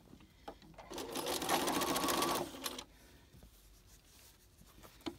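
An electric sewing machine runs in one steady burst of about a second and a half, stitching down a fabric face mask with a back tack. It is close and loud, with quieter handling sounds before and after.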